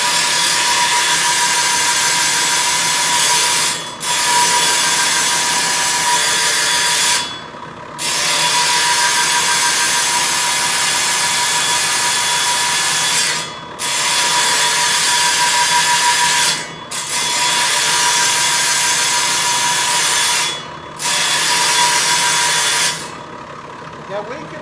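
A water-cooled rock saw grinds steadily through rock in long, continuous, loud passes. It stops briefly several times, and a voice can be faintly heard under the cutting.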